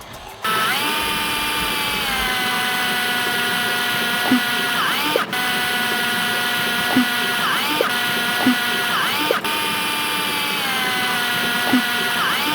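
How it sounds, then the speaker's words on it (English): A power drill whines continuously at close range while drilling holes during a racing pedal install on a Porsche 981, its pitch sagging and recovering repeatedly as the bit bites in, with occasional sharp clicks. "Take it slow so the drill bit does not walk on you."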